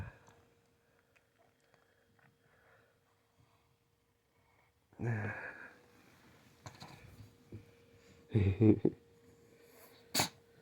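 A dog sneezes several times indoors: a sharp sneeze, a pair of snorting sneezes a few seconds later, then a final short one, each close and fairly loud against a quiet room.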